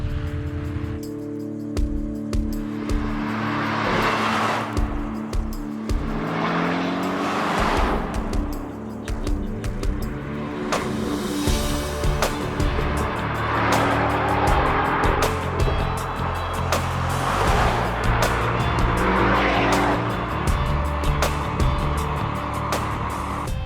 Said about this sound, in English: We got this car finished up and took it out for a test drive.